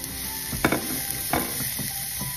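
Garlic and onion sizzle in a frying pan as shrimp cooks, a steady bright frying hiss with a couple of sharper bursts and stirring scrapes close by, and no voices.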